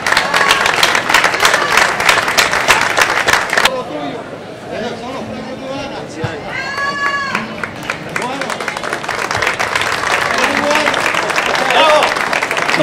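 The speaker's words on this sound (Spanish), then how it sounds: "Ese fuerte aplauso, por favor." Loud applause from a crowd at a livestock fair in Carrizal de Ingenio, dense clapping that dips briefly then swells again, with some cheering and chatter mixed in.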